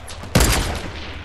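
A single sharp sniper rifle shot cracks in Fortnite, loud and close, with a booming tail that fades over about a second.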